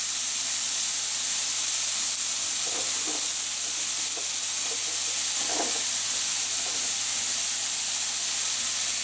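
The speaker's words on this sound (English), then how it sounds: "the skill of browning meat is to put it in the pan and just leave it for a bit" Meat browns undisturbed in a hot pan for a ragu, giving a steady, close hiss of sizzling with faint ticks and pops scattered through it.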